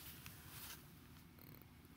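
A pet cat purring close up, a quiet, steady low rumbling drone lasting the whole moment with no other sounds.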